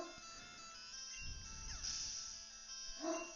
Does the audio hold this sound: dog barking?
yes